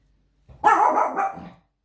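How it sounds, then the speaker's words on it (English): A house dog gives a single loud, drawn-out bark-growl nearby in an otherwise quiet room. "That's my dog being a fool because it can hear."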